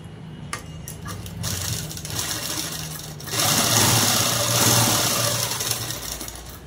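Sewing machine stitching the side seam of a prince-cut model dress, a steady continuous motor whir with a mechanical needle rhythm, close and fairly loud, growing louder in the second half as the pace picks up; no talk.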